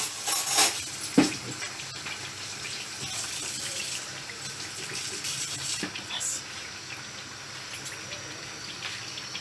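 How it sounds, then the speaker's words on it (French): Mokary rice cakes frying in plenty of hot oil give a steady hiss and crackle throughout, with occasional sharper pops and spatters. Someone speaks now and then over the frying. "je suis en train de faire cuire le mocarfla. Il faut bien dorer."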